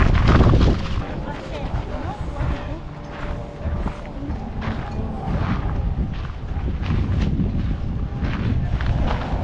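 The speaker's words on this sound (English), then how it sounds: "even with this wind blowing and my hat coming off" Outdoor wind at the 2025 Quartzsite RV show buffets the microphone in low, rumbling gusts that roar and ease irregularly throughout, with fainter background activity beneath.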